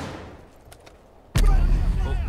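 A grenade explodes in the tactical shooter Rainbow Six Siege: after a quiet stretch with faint clicks, a single sudden loud blast hits and leaves a heavy, rumbling roar that carries to the end.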